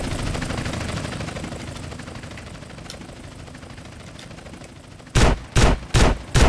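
A shotgun fires four loud, evenly spaced blasts in GTA San Andreas, following a stretch of steady background rumble from the game.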